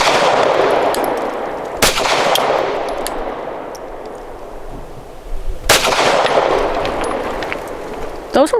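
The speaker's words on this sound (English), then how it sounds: "for circle number 2, Super Clean by Winchester. These are 90 grain." A Canik METE SFX pistol firing Winchester Super Clean 90 grain rounds, two loud sharp shots a few seconds apart, each followed by a long decaying outdoor echo, plus a faint click near the end.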